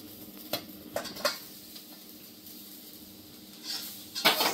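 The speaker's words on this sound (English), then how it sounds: "now again I have to remember that I have to fry the coconut again till it turns its color" Grated coconut for Goan mushroom masala fries in a pan with a soft, steady sizzle, broken by a few sharp scrapes and clinks of a spoon stirring against the metal, close and fairly quiet.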